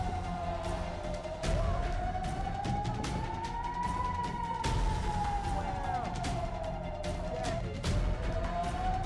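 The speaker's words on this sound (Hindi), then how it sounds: "वहीं सायरन की आवाज ने पूरे दक्षिणी इजराइल को दहशत में डाल दिया।" An air-raid siren in southern Israel rises and falls steadily, loud and continuous, over a dense background of rumbling noise and crowd sounds after explosions.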